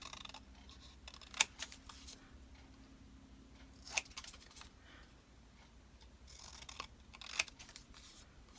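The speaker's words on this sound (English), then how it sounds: "Oh, I'm going to cut a little bit of that white off." Scissors snip paper in a few sharp, isolated cuts spaced through a quiet stretch while a collage frame is trimmed, each cut brief and close.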